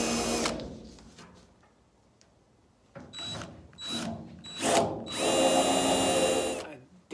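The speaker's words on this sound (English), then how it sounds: "drilled through with that 1/8 inch bit" A 1/8 inch double-ended high-speed steel bit drills a hole for a new spoiler on a 1969 Camaro, the drill whining in short bursts then a longer steady run, close and loud.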